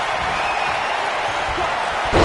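A wrestling slam lands in WWE 2K19 amid a steady roar from a capacity arena crowd, with a louder impact burst at the very end.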